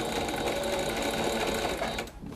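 Sewing machine stitching a curved seam on a cloud-shaped cushion, a fast steady whirring run of stitches that stops abruptly near the end.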